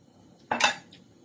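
A lid set down over a cooking pan on the stove, one short metallic clatter with a brief ringing rattle in an otherwise quiet moment.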